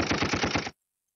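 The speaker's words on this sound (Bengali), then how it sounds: "গান ক্লিক করার পর কিন্তু হচ্ছে এখানে গুলির শব্দ আসে" Gunshot effect from a V8 live sound card, a loud rapid burst of repeated shots like automatic fire lasting under a second, then cutting off sharply into silence.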